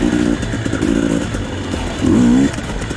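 A KTM 250 two-stroke dirt bike geared 12/50 crawls in first gear on Moab terrain. Its engine burbles low and near with uneven throttle blips, ending in a brief louder rev.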